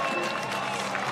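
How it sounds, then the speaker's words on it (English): Crowd applause at a BMX freestyle park World Cup men's semi-final in Edmonton, a steady broadband wash of clapping and cheering that stays even throughout the brief stretch. "Nikulin getting a round of applause from the crowd right now"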